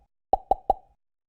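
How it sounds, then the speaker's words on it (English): Three quick, close, bouncy pops from a small percussion sample in a footwork drum track, evenly spaced and clean, each with a short ringing tail, followed by silence. "The next sound we have here is this little pop"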